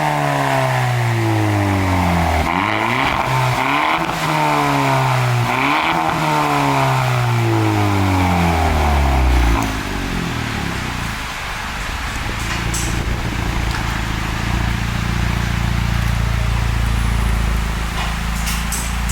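A Hyundai Elantra Sport with a 1.6L turbo four-cylinder and a muffler delete revs hard several times in quick climbing bursts, then drops back into a deep, rumbling idle, loud and close with no talking.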